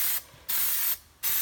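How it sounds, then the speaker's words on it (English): Plasti Dip aerosol can spraying a license plate frame up close, two sustained bright hisses separated by short quiet gaps. "let's spray that license plate frame"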